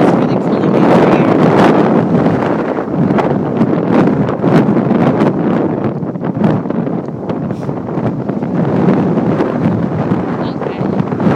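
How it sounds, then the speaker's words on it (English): Strong Hurricane Sandy winds in Elizabeth, New Jersey, roar and buffet the microphone continuously at high level, with gusty rustling bursts throughout and some indistinct talk mixed in. "The wind is really pulling me over here."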